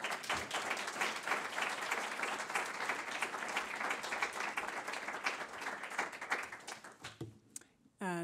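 An auditorium audience at the Kennedy Center applauds steadily to welcome speaker Yolande Bouka, a dense patter of many hands that fades out near the end.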